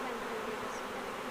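Honey bee swarm in a bush in Red Bluff, California, a dense steady buzz droning without a break, moderately loud, no voices.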